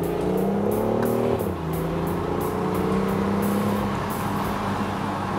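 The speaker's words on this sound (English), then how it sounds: "Power from the electric motor and the turbo engine now seem to fall over each other in a rush to get out" A BMW i8 Roadster, with its hybrid drive of electric motor and turbo engine, accelerates hard. The engine note climbs steadily, drops at a gear change, then rises again close up, with no voices.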